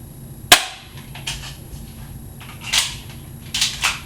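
A Crosman Stinger P311 spring airsoft pistol fires with one sharp, close snap into an apple. Softer clicks and shuffling follow, then a few brief rustling bursts near the end.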